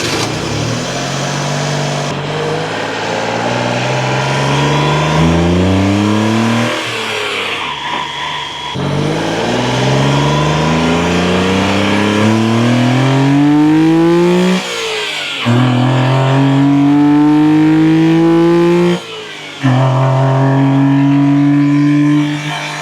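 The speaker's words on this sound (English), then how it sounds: "hopefully we'll get some cool intake noises" A Honda Beat engine with an HKS air filter revs repeatedly through rising gear pulls, with a deep throaty intake roar building and dropping between shifts, loud and close.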